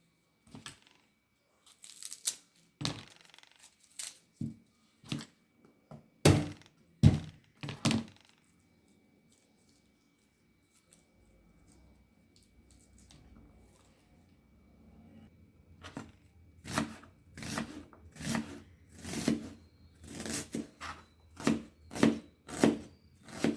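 A knife chops onion on a board in a home kitchen, making sharp irregular thunks that come in two bursts with a quiet pause between them, moderately soft and close.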